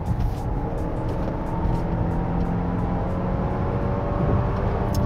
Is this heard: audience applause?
no